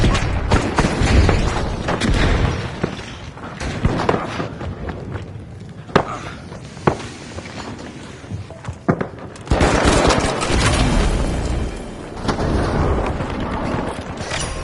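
Chaotic firefight in the video game The Finals, with a frag grenade thrown amid sustained rapid gunfire, sharp shots and booms, loud and close, and bursts of heavy automatic fire throughout.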